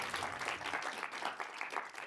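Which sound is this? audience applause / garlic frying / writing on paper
audience applause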